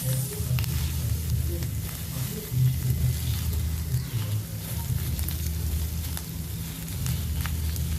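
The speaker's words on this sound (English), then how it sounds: "काफ़ी ब्राउन हो गए हैं हमारे onions." Onions browning in a pan for Punjabi rajma sizzle and crackle steadily and up close, a continuous frying hiss with small pops throughout.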